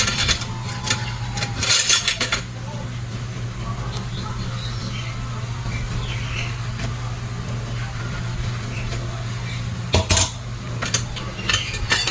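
Spoons and forks clinking against dishes in a basin while the dishes are washed by hand, with sharp metallic clatters near the start and again toward the end, under someone talking.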